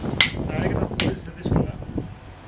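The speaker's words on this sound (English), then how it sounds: "I use a traditional way of working with marble with hammer and chisel." A hammer strikes a chisel against marble in sharp, bright metallic taps, about three of them spaced unevenly at a close distance, over a rumbling background.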